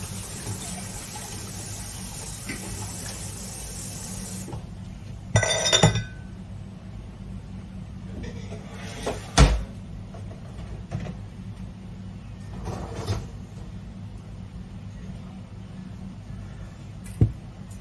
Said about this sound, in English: I'm going to get my jars out of the dishwasher.